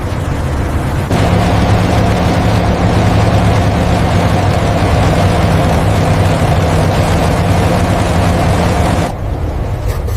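A loud, steady low drone of heavy WWII bomber engines, a constant rumbling hum with no talk, starting and cutting off abruptly.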